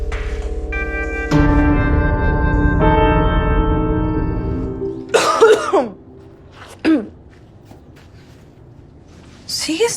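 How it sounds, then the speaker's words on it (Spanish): A woman coughs in a dramatic indoor scene: after background music fades, a harsh cough bursts out close by, then a short second cough and another at the end. "¿Sigues tosiendo?"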